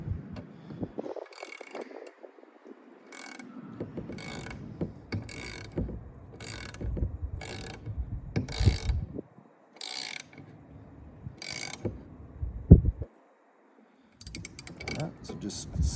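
A ratchet tightening bolts while a Metalcloak dead pedal is installed in a Jeep JLU, heard as repeated short bursts of clicking with pauses between them, close and fairly loud.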